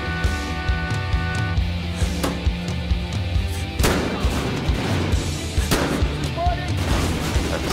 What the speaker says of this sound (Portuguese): Nossa, olha os tiros, velho.